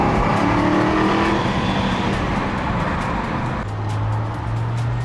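A BMW 335is engine roars loudly with a rumbling exhaust, revving and shifting pitch as it drives by, with no speech over it.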